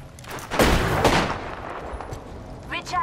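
Gunfire in Apex Legends: a burst of shots near the start rings into a rough, echoing tail, with a fainter crackle of distant fire near the end.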